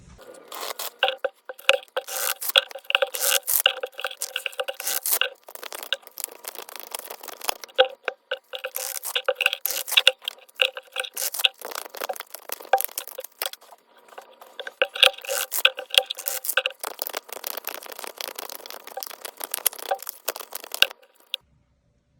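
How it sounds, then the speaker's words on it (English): Oracle cards being shuffled and drawn by hand: close, crisp rustling, scraping and quick flicking snaps that come in dense runs with brief lulls, and no talking. "So I'm going to pull some oracle cards now for you."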